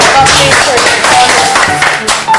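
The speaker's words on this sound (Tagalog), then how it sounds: "Palakpak." A group of people claps in a classroom, a dense patter of hand claps mixed with voices and chatter.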